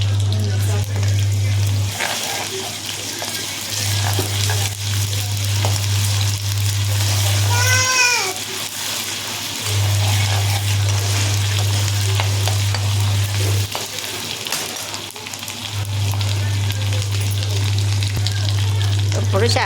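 Onion and ginger paste sizzle steadily in hot oil for a tempering, the frying hiss continuous and fairly loud beneath a low steady hum, with brief stirring noises and faint voices.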